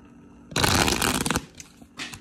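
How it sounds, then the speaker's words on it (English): A deck of tarot cards shuffled in one loud, dense riffling burst lasting about a second, then a few softer card taps and a brief final flick. "One more shuffle, please"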